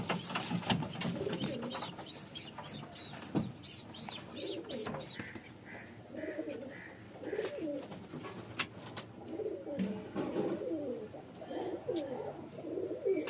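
Pigeons of a top-quality Andra tiplar line coo repeatedly from nearby in a loft, with soft rolling calls overlapping one another at a moderate level and light rustling in the background.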